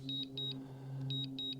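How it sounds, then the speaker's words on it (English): A DJI Air 3S drone controller sounds its return-to-home alert as quick paired high beeps, repeating twice, pausing briefly and then repeating twice more, faint over a low steady hum. "this return to home with the beeping and everything"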